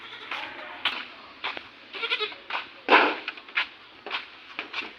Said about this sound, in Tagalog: ibigay na natin doon sa alaga natin na kambing